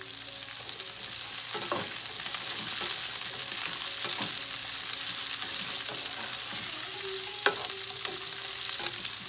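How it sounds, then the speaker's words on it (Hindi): Nigella seeds fry in oil for a capsicum and potato sabzi, making an even, dense sizzle throughout with occasional light stirring taps and scrapes. "और थोड़ी सी ही कलौजी डालनी है"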